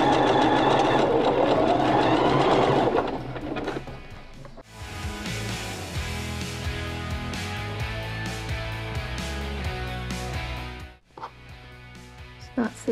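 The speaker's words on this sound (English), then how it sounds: "sew over that with a narrow zigzag" A sewing machine runs a narrow zigzag stitch over folded fabric on a project to sew underwear without elastic, whirring steadily near the mic and pausing briefly, with someone speaking at the start.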